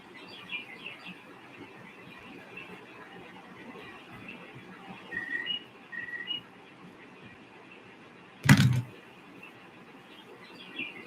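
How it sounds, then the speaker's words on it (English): Faint birdsong chirps and whistles in the distance over a low outdoor hum, with a brief loud knock partway through. "Debbie, you can hear the birds pretty good"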